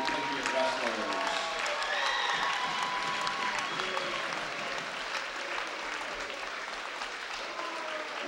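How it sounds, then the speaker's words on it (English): A crowd at a 2008 high school wrestling meet between Parkersburg South and John Marshall applauds steadily, with voices calling and talking over the ongoing clapping. "Let's have a round of applause for these future Parkersburg South High School Patriot wrestlers."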